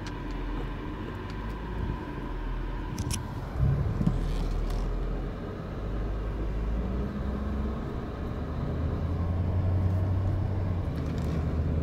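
Quiet cabin of a 1997 BMW 740i during a fast test drive, a low steady road and engine hum with soft rumble and faint occasional clicks, no talk.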